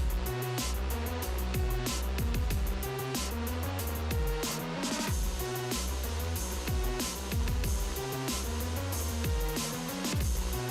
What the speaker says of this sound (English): Yeah, nice snare. We like the snare as well.